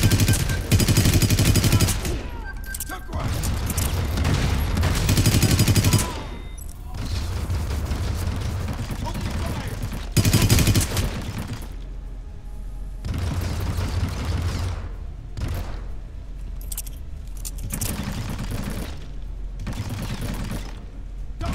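Sustained gunfire fills a Hitman: Absolution shootout, with dense rapid bursts and booming shots in long loud stretches broken by brief lulls.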